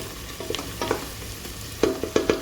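Onions fry toward golden brown in a pan for mutton biryani, a low sizzle punctuated by several sharp scrapes and knocks of a spoon stirring against the pot, no talking.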